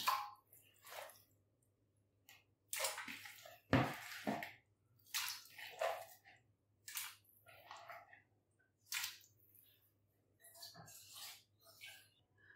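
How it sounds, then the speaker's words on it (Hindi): Chicken pieces dropped into two litres of water in a pot for yakhni pulao, producing close wet plops, splashes and squishy handling noises in irregular bursts over a low steady hum. "2 लीटर पानी में हमने डाल देना चिकन।"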